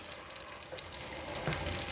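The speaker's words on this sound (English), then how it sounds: "Now let's continue frying" Akara bean fritters fry in hot oil in a pan, giving a steady close sizzle with bubbling crackle and a light stir partway through, with no talking.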